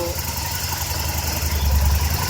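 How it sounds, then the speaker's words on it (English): An Aprilia RSV1000RR Factory V-twin motorcycle engine idles during an oil service, a steady low throbbing rumble with a faint knocking pulse, close and continuous, growing slightly louder near the end. "I have start the engine"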